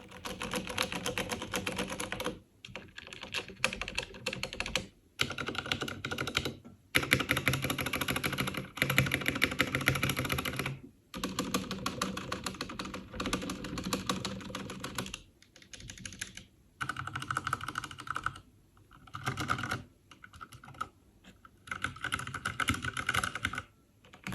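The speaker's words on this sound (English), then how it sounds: "the final sound comparison is against the SteelSeries Apex Pro keyboard with OmniPoint switches" Rapid typing on a Ducky Mecha Mini 60 percent keyboard and a SteelSeries Apex Pro with OmniPoint switches, dense clacking bursts separated by short pauses, close and clear with no talking.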